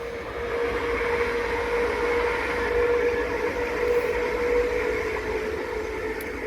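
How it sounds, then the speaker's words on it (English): A train rumbles past close by on the line beside Harlestone Firs, a steady loud roar with a sustained tonal whine over the track noise, holding level before easing slightly. "Yep, train coming."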